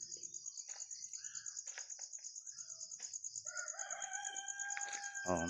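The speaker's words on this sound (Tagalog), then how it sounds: "May manok." A rooster crows loudly and close by near the end, over a steady high insect drone and scattered bird chirps.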